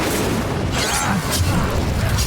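Confringo fire spell exploding during combat in the Hogwarts Legacy video game, a steady roar of booming and crackling blasts layered with battle noise, loud and continuous without pause.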